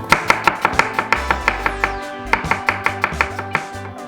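A knife chops red onion for a salad on a cutting board in a steady, quick series of crisp taps, close and clear, with music playing underneath.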